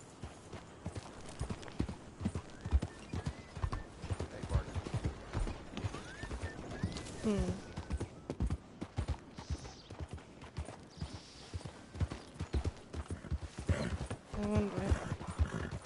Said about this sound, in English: You know how much time I've been doing that with this horse?